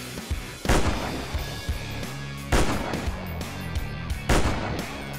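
Gunshots ring out in the dinosaur-hunting video game Dinosaur Hunt Africa: three loud, sharp reports spaced about two seconds apart, each with a booming low tail, over a constant background rumble.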